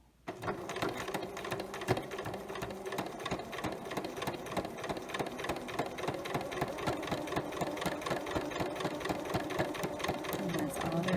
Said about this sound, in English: now I'm going to continue my seam all the way to the end